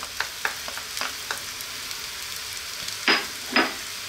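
Chopped garlic, chili powder, oregano and cumin frying in a pan for a potato cheese bake make a steady sizzle, broken by sharp crackles and two louder stirring scrapes near the end.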